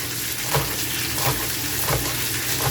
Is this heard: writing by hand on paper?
no